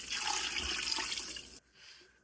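About four cups of water pour into a cooking pot for Filipino tinola, a loud, steady rushing splash lasting over a second before cutting off to a faint trickle.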